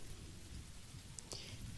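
Steady, calming rain falls throughout, a dense soft hiss with low rumbling texture and a few brief brighter drips, continuous and close with no voices.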